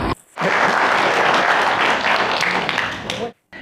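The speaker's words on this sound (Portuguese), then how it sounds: "Vamos aplaudir ela, certo?" An audience in a church applauds a woman who answered a question, a burst of dense clapping that starts abruptly, holds steady for about three seconds, and then cuts off.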